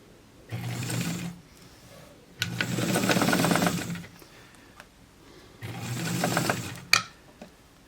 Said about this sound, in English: now we're gonna stitch right along there, and that'll set our sleeve.